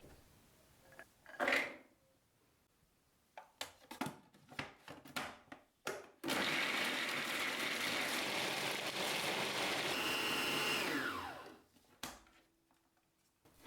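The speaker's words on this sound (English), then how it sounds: "Blend the broad beans and chickpeas." An electric blender whirs loudly and steadily for about five seconds as it grinds broad beans and chickpeas for falafel, preceded by a series of short knocks and clatters and followed by a single clack.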